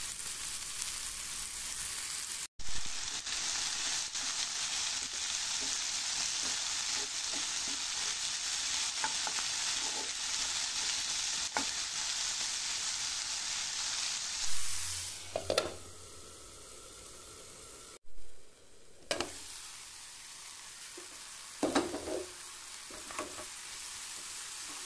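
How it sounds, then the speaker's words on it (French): Onions sizzle steadily in vegetable oil in a pan over medium heat, a constant close frying hiss with occasional stirring scrapes and clatters near the end. "J'ai mis ma poêle sur feu moyen, je fais revenir les oignons."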